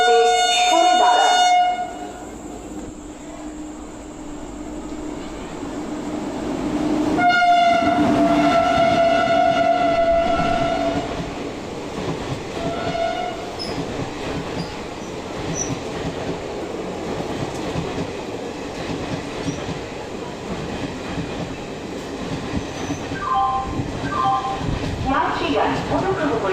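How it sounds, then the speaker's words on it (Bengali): A high-speed train passes through a station on an Indian main line. It sounds its horn loudly in bursts, and the heavy rumble of the wagons follows. A platform announcement plays over the passing train. "ট্রেন যাবে, অনুগ্রহ করে নিরাপদ দূরত্বে সরে দাঁড়ান।"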